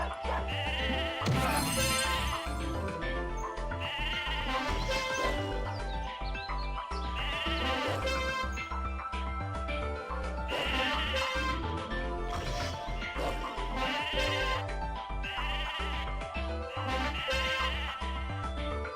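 Sheep bleats in the Mabinogi video game while a terrorized sheep is being sheared, repeated cries sitting over a continuous bed of dense game music with no talk.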